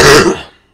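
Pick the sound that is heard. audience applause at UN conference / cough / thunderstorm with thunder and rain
cough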